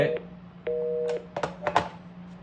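An incoming call on an IP exchange phone system rings as short electronic tone bursts, with clicks and a low steady hum beneath.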